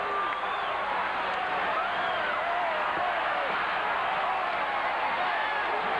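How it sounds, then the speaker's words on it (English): Wrestling arena crowd at the Philadelphia Spectrum roaring wildly, a dense, sustained wall of cheering and shouting with whistles and yells throughout. "And the crowd has gone crazy."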